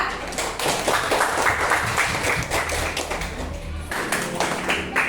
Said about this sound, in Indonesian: Beri aplaus untuk kelompok 2